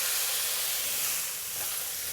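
Diced tomatoes hit a hot pan with garlic and give off a strong, even, steamy sizzle that dips slightly midway and then carries on.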